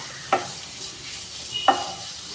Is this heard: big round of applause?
no